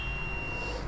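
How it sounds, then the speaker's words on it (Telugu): A continuity beep from a multimeter testing a fuse resistor on a mobile phone circuit board, a single steady high tone sounding under faint room hum, then cutting off near the end. "ఆ 2 పాయింట్స్ మీద మల్టీమీటర్ ని ఇలా పెట్టినప్పుడు బీప్ సౌండ్ రావాలి."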